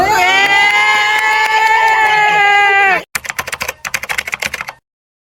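Rapid keyboard typing clatters in a burst of irregular keystrokes right after a sustained bleating-like tone, up close during a quiz about Indonesia.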